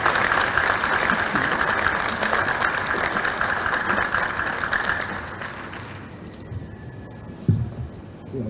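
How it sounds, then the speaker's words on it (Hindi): Applause welcomes Girish Gautam, Speaker of the Madhya Pradesh Assembly, onto the stage at an award trophy launch, a dense crowd clapping loudly for about six seconds before fading into murmurs and a sharp knock. "जोरदार तालियों से स्वागत कीजिए गिरीश गौतम जी का।"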